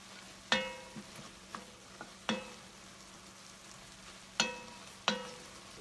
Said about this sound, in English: And then I just give it a good stir.